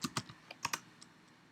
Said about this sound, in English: in Google you could type Pixlr editor